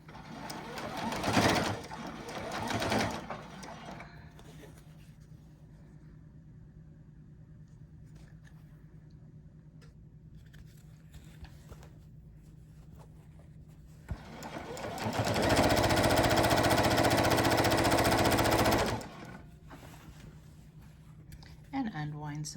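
A sewing machine stitches binding onto a quilt, a brief burst of whirring early on, a quieter stretch, then a longer steady run of rapid mechanical stitching near the microphone, with speech around it.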